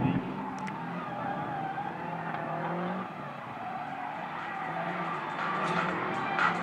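Two race cars in a head-to-head elimination round run through a turn toward the start-finish straight, their engine roar loud and steady throughout, with brief tire squeal and a commentator talking over the noise.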